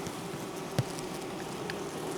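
Honeybees of a swarm buzz faintly inside a hive hole at an apiary, a soft continuous hum with a single brief tap, heard close but quiet.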